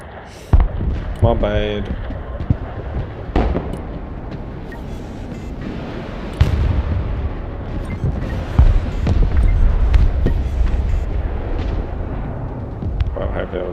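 Weapons fire in the Broken Arrow war game with several sharp booming shots and heavy low rumbling blasts, loud against a dense battle din, while someone talks over it.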